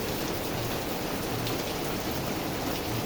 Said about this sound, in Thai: ฝนตก หนักมากนะครับหนักแต่เมื่อคืนนะครับ